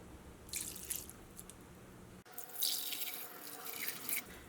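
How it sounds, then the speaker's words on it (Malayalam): Water pours into a soup pot in two splashing streams split by a brief cut, the second longer and fuller, close and fairly quiet with no voices. "ഇതിലേക്ക് വെള്ളം ചേർക്കാം"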